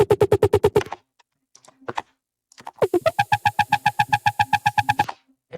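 Synthesized flutter wobble bass with stacked harmonics pulses in quick, even bursts, then drops to sparse blips before a longer run of loud, buzzing repeated notes returns.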